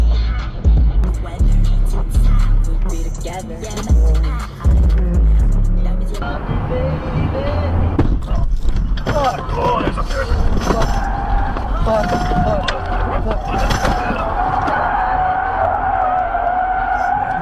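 A truck strikes a tire lying on the road, a loud thump and skidding roar up close inside the cab, with an excited voice talking over the impact and the engine noise that follows.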